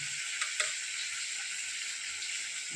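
Spices and asafoetida frying in hot oil while cooking a Gujarati onion and chana dal shaak, a steady bright sizzle throughout with a couple of small pops and ticks.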